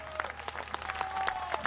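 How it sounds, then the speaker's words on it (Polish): Light, scattered applause from a small audience as people are called up onto a stage, a few distinct claps over a faint steady tone. "Wielkie brawa dla nich, naprawdę."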